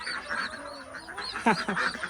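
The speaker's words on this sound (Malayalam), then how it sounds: "ഇതേതാ നമ്മളെ ഫ്ലൈൻ ഡക്കല്ലേ, മണിത്താറാവ് അല്ലേ?" Ducks on a newly opened poultry farm give a burst of nasal, honking quacks up close, the calls rising sharply near the middle and then trailing off.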